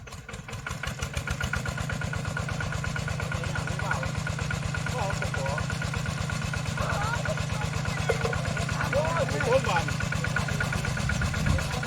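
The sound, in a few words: engine of a water pump running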